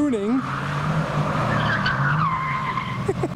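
A Mercedes hoons away from a car show, its tires squealing and skidding loudly over a revving engine that swells and wavers as it pulls off.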